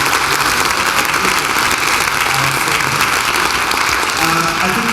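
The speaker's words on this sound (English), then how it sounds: "Another round of applause" Sustained, even applause from an audience at an opera book launch, loud and dense throughout with no breaks.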